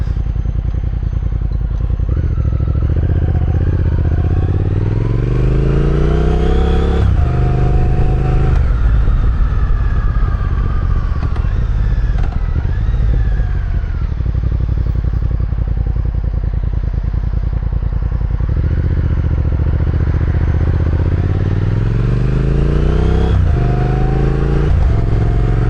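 Harley-Davidson Sportster S and Triumph Speed Twin motorcycles riding together, engines loud and close, revving and shifting through gears in repeated rising sweeps over a continuous rumble of wind and road.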